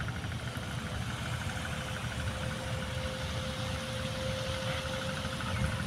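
A trawler boat engine chugs steadily across the Shitalakshya river, a continuous low mid-range rumble with a faint steady whine, heard from some distance alongside lapping water and no talk.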